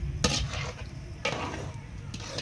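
Nungu kesari ingredients being sautéed in a pan, with soft scraping stirs and a faint sizzle, punctuated by a few sharper utensil scrapes, heard close up.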